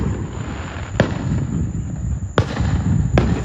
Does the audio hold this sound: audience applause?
no